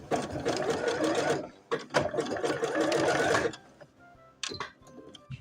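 A sewing machine stitches fabric Christmas coasters, running in two steady, rattling bursts with a brief stop between them, followed by a few short mechanical clicks and taps.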